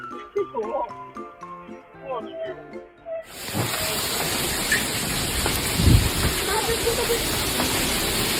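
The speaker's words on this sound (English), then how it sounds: "Heavy rain transformed the streets of Villar del Arzobispo in Valencia, Spain, into white rivers of hail." Heavy rain and hail pour onto the streets of Villar del Arzobispo in Valencia, Spain, as a dense, loud, continuous hiss that starts abruptly after a few seconds of music.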